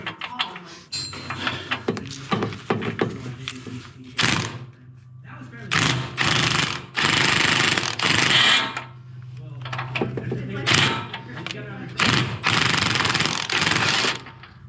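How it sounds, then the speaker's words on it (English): Pneumatic impact wrench working on a tie rod end of a Chevy Tahoe in a garage, firing in several loud, separate bursts of hammering with pauses between them, and a person talks in between the bursts. "And this, I'm just gonna get the impact on."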